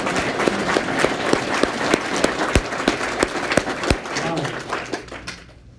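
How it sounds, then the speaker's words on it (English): An audience at a wealth investment group meeting applauds a speaker, a room of clapping hands with several sharp, distinct claps standing out near the microphone, fading away toward the end. "How about a round of applause for Victor?"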